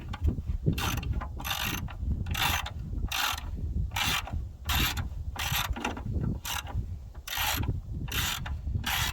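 A Phillips screwdriver turns screws out beneath the damaged front end of a 1990 Dodge Grand Caravan LE. Close, repeated ratcheting clicks come in regular bursts over a steady rumbling background, with no talking.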